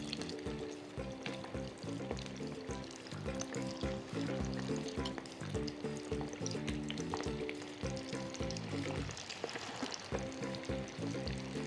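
Chicken wings fry in hot oil on a stove that has been switched off, a continuous bubbling sizzle with steady crackle and no talk over it.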